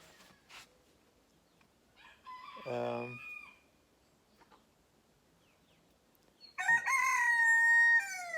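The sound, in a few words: roosters crowing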